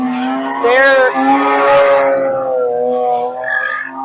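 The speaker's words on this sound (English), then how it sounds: "that RX-8 is loud" A Mazda RX-8 drift car's engine wails at high revs, rising and holding in a loud buzzing tone with rapid pitch swings, heard at a distance over open ground.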